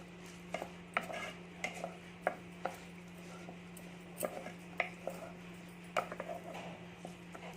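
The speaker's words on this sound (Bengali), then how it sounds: "সেরকম ভাবে আমি একটু নেড়ে নিচ্ছি" Rice grains in a little oil are stirred in a pan, giving a low steady hum and regular soft scrapes and taps of a spoon against the pan, close but quiet.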